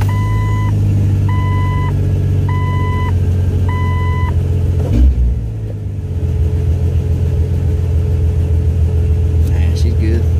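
A car engine fitted with a 60mm throttle body idles with a deep steady rumble while an alternating two-tone electronic chime beeps four times, then the engine note dips and settles back to idle.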